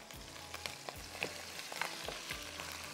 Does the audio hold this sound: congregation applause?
no